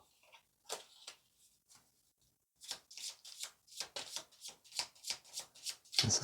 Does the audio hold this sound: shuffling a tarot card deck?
yes